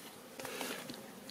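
Honey bees buzz at a beehive during swarm preparation, a faint, steady hum with brief louder passes from individual bees close by.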